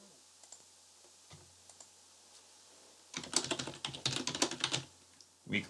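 Typing on a computer keyboard, entering labels into an Excel spreadsheet: a few sparse clicks at first, then a fast, close burst of clattering keystrokes and a final cluster of taps.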